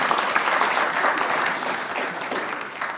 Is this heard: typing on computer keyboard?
no